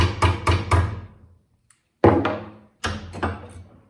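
Wire held in a vise is struck with a hammer close to the jaws to keep its bends tight: a quick triple of sharp, ringing taps, a short pause, then two more clustered bursts of strikes.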